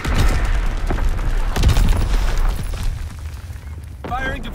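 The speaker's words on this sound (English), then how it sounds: "Firing division artillery" Artillery fire in the World War II shooter Call of Duty WW2 on the London Docks map: loud, continuous booming blasts and rumbling detonations rolling on for several seconds, with a brief radio-style voice near the end.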